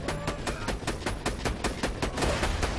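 Rapid automatic gunfire from a Borderlands 2 firefight, a steady burst of evenly spaced shots rattling continuously at close range with no talk over it.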